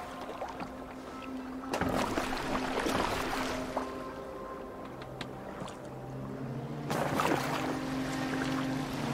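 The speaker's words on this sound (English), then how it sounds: "Are you well enough to steer this boat?" A boat in the game Assassin's Creed Valhalla glides across the water with a soft rushing wash and wind, swelling into louder splashes and surges of water at intervals.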